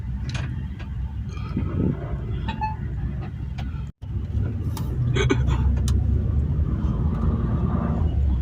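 Road traffic on a Berlin street in Germany, heard from inside a vehicle as a steady rumble of car engines with occasional ticking and passing sounds, slightly louder in the latter half.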